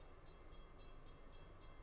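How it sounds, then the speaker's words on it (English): A train rolls past in Hamilton, heard as a continuous low rumble with rail noise that stays steady and moderately loud for the whole span, with no voices over it. "I got a train coming by here"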